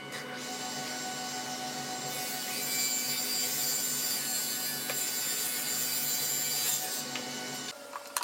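A table saw rips plywood into the last shelf piece at a 5 3/4 inch fence setting, a steady close whine with a grinding cutting tone that runs the whole time, then cuts off as the blade spins down near the end.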